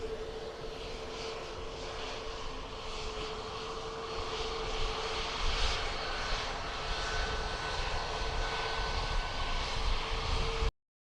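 Boeing 737 Max jet arriving at Dublin Airport from Turkey, a steady distant engine roar with a faint whine, holding level and slightly swelling before cutting off abruptly.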